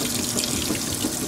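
Water rushes steadily into a washing machine on a hot-fill cycle, a continuous close hiss of running water with no talk over it.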